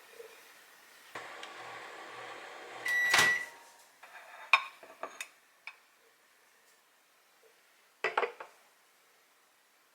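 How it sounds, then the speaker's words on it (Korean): A home microwave oven is started to heat food for 1 minute 30 seconds: door clunks shut, keypad beeps, a steady hum runs, then sharp clicks and dish clatter follow nearby, with no speech. "이렇게 해서 전자레인지 1분 30초 데워볼게요."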